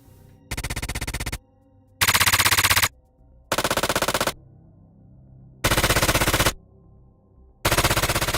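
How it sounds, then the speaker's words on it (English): Layered machine gun firing effect from a Unity video game, built from mech, punch and body layers, heard as five loud sustained bursts of rapid automatic fire separated by short silences. "The machine gun was made up of 3 layers of sounds that included a mech layer, a punch layer, and a body layer."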